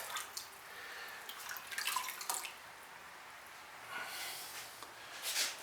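Raw pottery glaze poured out of a pot, a soft, faint liquid splashing and trickling with a few louder gushes and drips, heard alone without talk.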